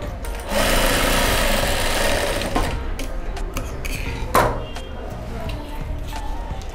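A sewing machine runs steadily while stitching a handmade fabric card holder, loud and close for several seconds, then slows into shorter bursts with light handling clicks.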